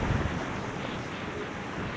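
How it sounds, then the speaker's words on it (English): Strong wind gusts from Hurricane Milton buffet the microphone near a boat ramp, a loud, steady roaring rush with a heavier burst at the start and no speech. "That was a really big gust, guys."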